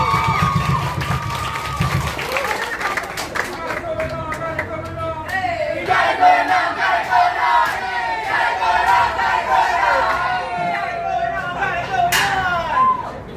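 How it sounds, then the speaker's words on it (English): Crowd at a steelpan festival in the Northern Region cheering and applauding loudly throughout, with shouts rising over the clapping and a busy, sustained roar. "A special round of applause to our director of music, Mr. Aaron Clark."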